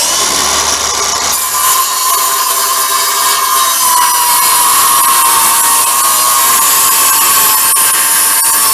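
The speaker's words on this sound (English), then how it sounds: "So now I put my saw right up against that clamp, that straight edge." A power saw guided along a clamped straight edge cuts through a large board for a big two-sided chalkboard. Loud, close and continuous, it whines at high pitch throughout with no talk.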